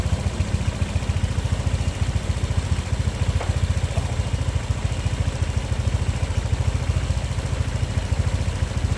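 A Honda Vario 125 scooter with a fuel filter problem idles close by, its engine putting out a steady rapid low putter that stumbles slightly and unevenly throughout.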